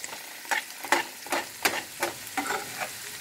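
Onions and garlic sauteing in a pot alongside celery and carrots for vegetable soup, a close sizzle broken by about eight rhythmic stirring scrapes.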